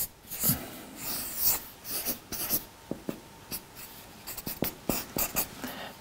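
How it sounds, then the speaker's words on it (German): Pen drawing on paper, close scratchy strokes in irregular bursts with short pauses, heard on its own without talk. "Ich bin kein großer Künstler, gebe mir aber Mühe, so gut wie möglich zu zeichnen."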